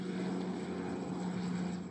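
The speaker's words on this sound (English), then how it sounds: "we witness planes refilling their water tanks to fight fires caused by severe drought" Firefighting planes refilling water tanks near a boat anchorage in Sicily during drought fires: a steady propeller-engine drone holds at moderate distance with no talk.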